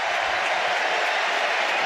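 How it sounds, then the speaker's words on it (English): Football stadium crowd at a Spain versus Northern Ireland match applauding a player, a brief steady patter of distant clapping blended with general crowd murmur. "the crowd certainly enjoy him"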